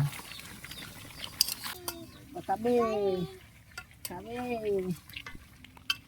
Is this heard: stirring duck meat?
yes